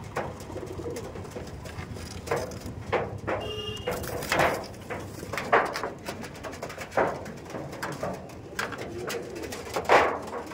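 Madrasi pigeons coo in repeated low, throaty bursts, close by in a loft, with rustling and scattered wingbeats between calls and no talking.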